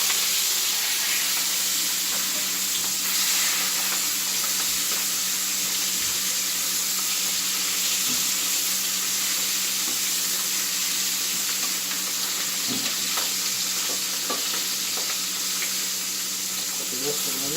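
Sausages browning in a frying pan for a classic Italian Sunday dinner, giving a steady, loud, continuous sizzle and crackle with occasional faint clinks, unbroken throughout.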